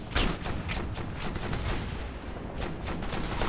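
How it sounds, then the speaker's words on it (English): Dense, continuous gunfire from the military shooter game Operation Flashpoint: Red River, with overlapping rapid shots and bursts cracking loudly without pause throughout. "I'm getting shot up here!"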